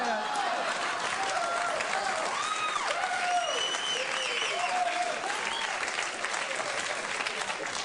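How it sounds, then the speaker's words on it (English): A theater audience breaks into sustained applause at a stand-up comedy monologue, dense steady clapping throughout with a few whoops and voices rising over it. "They give you a round of applause for giving them the finger."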